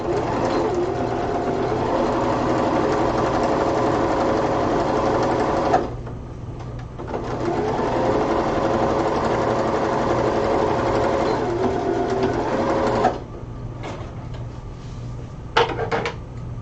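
A sewing machine stitches a Freya cosplay costume from God of War 4 in long continuous runs, pausing briefly near the six- and thirteen-second marks before resuming, with a few short bursts at the end; no talk.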